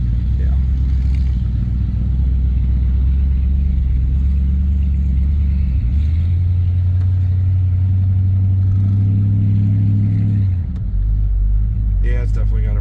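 A 1971 Dodge Polara with 31,000 original miles, running again after more than 20 years and with a dragging brake, drives off with a loud, steady, close engine rumble that shifts pitch twice as it pulls away.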